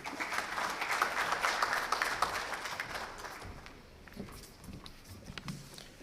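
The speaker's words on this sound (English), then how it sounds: "Please give a big round of applause for" Applause from a convention audience in Pakistan for a guest speaker, a broad wash of clapping that is strongest at first then thins and fades, ending in scattered, quieter claps.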